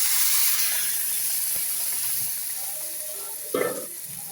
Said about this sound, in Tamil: இந்த அரைச்ச விழுதை ஊற்றிக்கலாம்